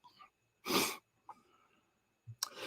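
A single sharp sneeze bursts out loudly, followed by quieter sniffs and a brief second burst near the end.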